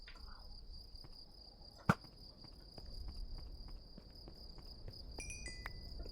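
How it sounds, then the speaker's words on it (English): Crickets chirp in a video game night scene as a steady high trill runs throughout, with one sharp click near the start and soft footsteps beneath. "I heard the crickets."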